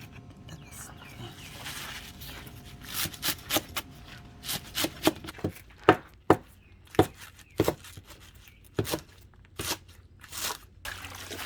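A knife finely chops chives on a cutting board for cucumber kimchi filling at a guesthouse kitchen, with sharp, close, irregular knocks that quicken into steady chopping over faint background noise.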